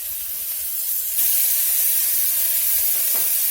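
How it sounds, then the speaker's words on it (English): Beef hits hot vegetable oil in a heated pot with a loud, steady sizzling hiss up close that jumps sharply in intensity about a second in and then holds. "We're going to sear this up on all sides."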